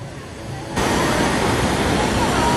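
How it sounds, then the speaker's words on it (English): A waterfall at Disney California Adventure beside Grizzly Peak, heard as a steady broadband rush of falling water that swells suddenly louder and stays constant and close. "Having an awesome waterfall here with Grizzly Peak right there"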